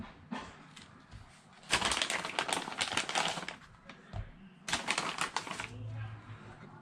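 Plastic packaging around a new set of rear tires for a Losi no-prep RC drag car is torn open close up, in bursts of crinkling and crackling separated by short pauses.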